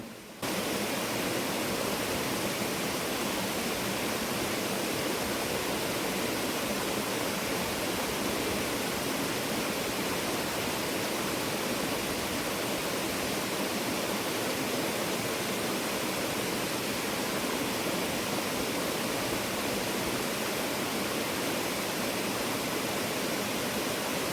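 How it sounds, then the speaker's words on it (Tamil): A forest river and waterfall on the Agasthyarkoodam trek pour in a steady, dense hiss of flowing water, close and continuous with no other sounds. "அடுத்து ஆறுங்க, நல்லா அருவி தண்ணி, நல்லா சூப்பரான தண்ணியாக போயிட்டு இருந்தது"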